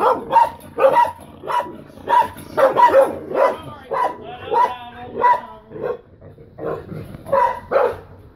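A dog barks repeatedly nearby, sharp yips and barks coming in a steady string over several seconds.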